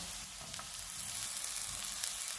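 Boiled corn and other ingredients sizzle steadily in a hot pan, a constant crackling hiss with faint stirring scrapes and no voices.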